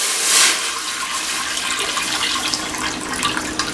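Water pours steadily into a frying pan, about two and a half litres, a loud continuous splashing rush with a fuller burst at the start that then settles into an even stream.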